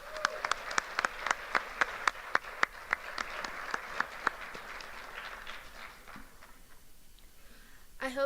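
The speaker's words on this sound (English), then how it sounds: "Can we please give another round of applause for that powerful message?" Scattered audience members clap after a keynote address at an annual Martin Luther King Jr. program, distinct separate claps that thin out and fade into a quiet room.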